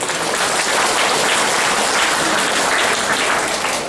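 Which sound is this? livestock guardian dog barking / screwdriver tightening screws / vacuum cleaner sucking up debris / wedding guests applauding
wedding guests applauding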